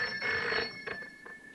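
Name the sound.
telephone ringing with an anonymous phone call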